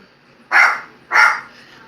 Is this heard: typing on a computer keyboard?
no